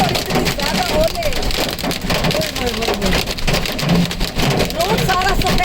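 Hailstones and heavy rain drumming on a car on a road in Multan in June, a dense continuous patter close by with sharp ticks, while people talk over it.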